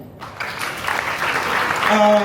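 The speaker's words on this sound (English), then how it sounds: "So please clap it up for Sheldon." Audience claps for a speaker at a talk, a short burst of applause that builds and swells in loudness, with a voice rising over it near the end.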